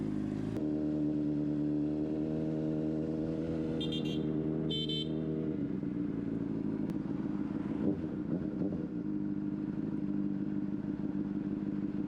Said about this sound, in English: Couple of playful revs.